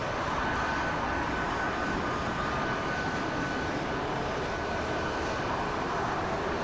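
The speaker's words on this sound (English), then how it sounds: "We'll move our throttle up. This engine should start to move the RPM." In the DCS flight simulator, an F-22 jet engine spools up with a steady, loud, continuous whine and rumble that holds even throughout, with no talking over it.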